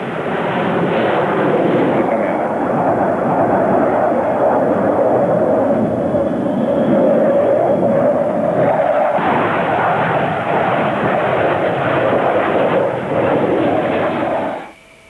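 RAAF F/A-18 Hornet fighter jet performing at an airshow, a loud continuous engine roar that swells and holds for about fifteen seconds before cutting off abruptly.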